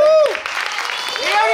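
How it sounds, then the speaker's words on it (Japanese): Audience applause greets a jazz dance team being introduced at the Hirosaki Dance Festival showcase, a brief burst of clapping under an announcer's voice and music. "拍手"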